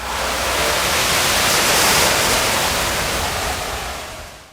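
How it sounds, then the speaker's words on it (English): A hot cooking oil fire flares up violently as a cup of water is poured into it, producing a loud, sustained roaring whoosh of broadband noise that swells and then slowly fades. "Adding 1 cup of water to the hot oil causes the fire to flare and spread dangerously."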